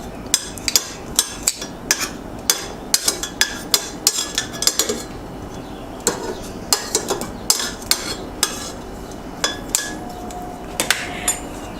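Dry-roasted potatoes being flipped skin side down in a pan: a close run of sharp metallic clinks and clatters from a utensil knocking the pan, irregular and spread over several seconds, with no talking.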